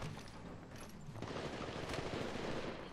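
Distant, muffled gunfire in a battle in Apex Legends Mobile, a steady crackling stream of shots low in the mix with no talking.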